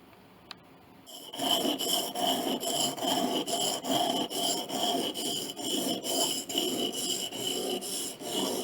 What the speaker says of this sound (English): Sand this off, scrape off all the blue, put it back in, and do it again.